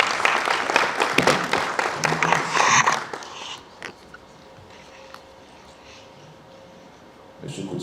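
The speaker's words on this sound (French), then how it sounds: "On peut encore l'applaudir, s'il vous plaît." Audience applause at a business forum in Cotonou, a lively burst of clapping for about three seconds that quickly dies away, leaving a quiet room with sparse sounds before brief noise returns.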